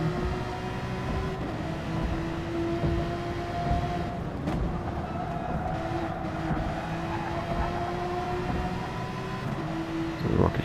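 Racing cars in a video game: a steady, droning engine whine holds several rising and falling tones, with the pitch shifting as the cars accelerate and lap other traffic. There are occasional brief scrapes, with faint commentary beneath.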